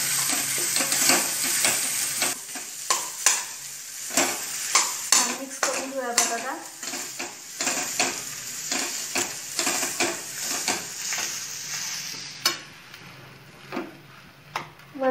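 Diced potatoes for a hotel-style Marathi potato bhaji sizzle steadily in a hot pan while a spoon scrapes and stirs them in repeated close clicks and knocks against the metal.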